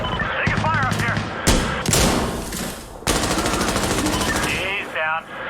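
Rapid automatic gunfire from the tactical shooter game Insurgency: Sandstorm, loud bursts of fusillade-like shots with pauses, heard alongside radio-style voice chatter from players.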